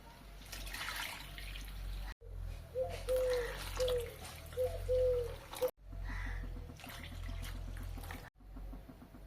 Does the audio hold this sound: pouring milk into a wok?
yes